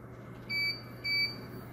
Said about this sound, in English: You hear it beep, and then you back away.